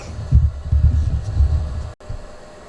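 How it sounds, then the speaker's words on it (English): A Brother PE770 embroidery machine stitching onto a backpack gives a steady, low throbbing hum of rapid needle strokes, loud and close, running without a break and stopping short near the end. "then we'll get the name loaded and we'll start stitching"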